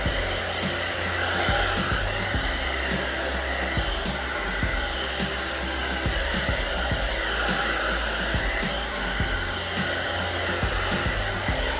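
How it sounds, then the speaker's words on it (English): A hair dryer blows continuously at close range, a steady airy whoosh with a low motor hum and faint rhythmic knocking underneath. "hit it with your dryer"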